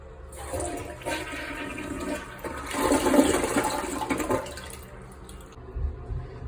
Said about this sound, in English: Then you want to go ahead and flush the toilet.